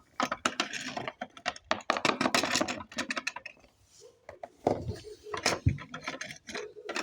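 Keys unlocking and opening a house door, heard as a close run of rattling metallic clicks and ratcheting lock mechanics with no voices over them.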